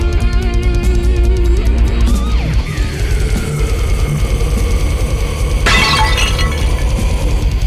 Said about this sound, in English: Someone threw a potted plant at the window.